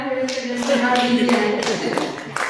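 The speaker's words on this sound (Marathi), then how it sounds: "या मंचावरील सर्व गझलकारांसाठी आपण जोरदार टाळ्या देऊया." Applause rises for the poets at a Marathi ghazal mushaira: scattered, fairly steady hand claps that sit under a sustained voice-like tone for a couple of seconds.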